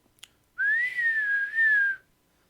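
A person whistles a single sustained note that rises slightly and wavers, about one and a half seconds long, imitating a sudden whistle in quiet surroundings.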